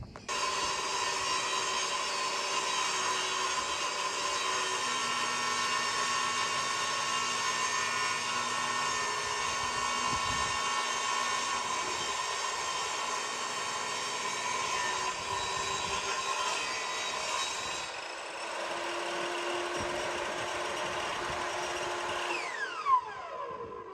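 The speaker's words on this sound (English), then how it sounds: "Busy, just sanding down" Steady whirring drone of a power sander working on an old abandoned house in Portugal, loud and continuous for the whole stretch, shifting pitch slightly near the end with a brief knock.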